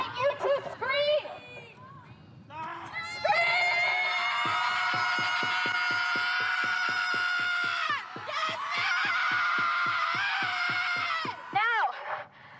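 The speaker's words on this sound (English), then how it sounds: "And now I invite you to scream!" A large outdoor rally crowd in Central Park lets out a long, loud collective scream that rises, holds steady for several seconds, dips briefly and swells again, preceded by scattered shouts and cheers.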